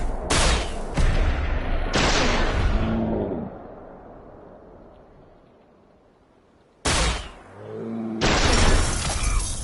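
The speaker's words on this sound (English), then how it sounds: "We'll even do a couple headshots, why not?" Loud Fallout 4 gunfire in sharp, close bursts: two shots at the start, a longer blast that fades away, then two more heavy shots near the end, no voices.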